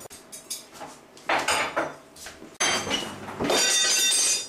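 Dishes and cutlery being washed clatter and clink loudly in bursts, with sharp metallic knocks and a busy rush of scraping near the listener.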